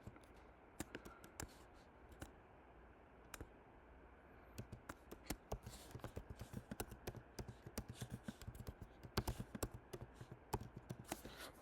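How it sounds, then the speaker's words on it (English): Quiet, rapid key clicks from a computer keyboard while text is entered in a design program, bursts of typing growing denser partway through, with no talk over it. "I'm going to start typing."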